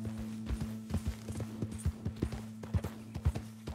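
Horse hooves clip-clop in a steady trotting rhythm in the video game Red Dead Redemption 2, each hoofbeat crisp and close over a low, constant hum.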